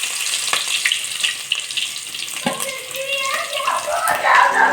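Chopped onions dropped into hot oil with cumin in a pan, a steady close sizzle and bubbling hiss that flares up as they hit the oil and keeps crackling throughout.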